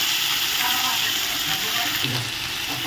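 Capsicum and onion for pav bhaji frying in a hot pan, a steady, loud hissing sizzle that holds evenly throughout with no voices over it.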